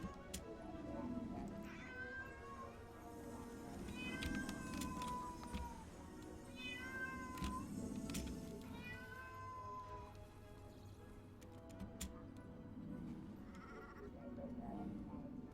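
Several insistent cat meows, repeated in a steady series over background sound and some faint voice, the cat calling from a distance in a house during a Guild Wars 2 play session.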